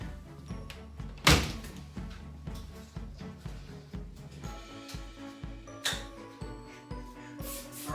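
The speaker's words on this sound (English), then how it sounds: "I'm going to close the door, and I'll do my best to be as loud as I can so you can hear me." A glass shower door being worked, a repeated rhythmic run of dull thunks and rubbing clatter at close range, with one sharp bang near the start and another louder knock later.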